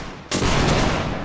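A line volley of gunfire in a line-battle video game bursts in suddenly after a brief lull, a loud, sustained roar of many muskets firing together that holds steady and then begins to taper.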